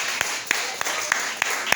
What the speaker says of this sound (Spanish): brinden los aplausos para eso